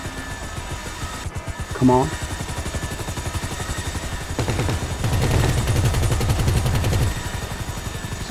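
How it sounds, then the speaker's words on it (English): Rapid helicopter cannon fire in GTA V, a fast regular stream of heavy shots over the drone of the rotors, rising into a louder sustained burst midway, with a short spoken line. "This cannon works."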